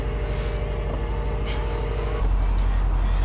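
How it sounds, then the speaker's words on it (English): A car's engine idles steadily with a low, even rumble, then steps up to a slightly louder, deeper running tone partway through, close by with no talk. "I'm gonna turn on the car just a little bit so the battery can charge"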